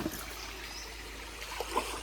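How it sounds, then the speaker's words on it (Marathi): Water trickles steadily out of a well's outlet on a Konkan morning, a soft, continuous burbling with no pause and no other sounds over it. "त्याच्यानं पाणी बाहेर येतो"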